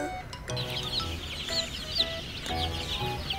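Chicken clucking sound effect: a run of short, bright clucks and squawks repeating in quick bursts, fairly loud and close, with no voices.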